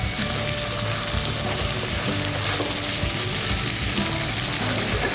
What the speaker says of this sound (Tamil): மட்டன் வதங்கிட்டுருக்கு